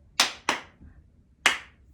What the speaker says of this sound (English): Clap, clap, and clap.